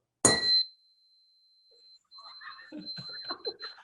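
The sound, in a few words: gong being struck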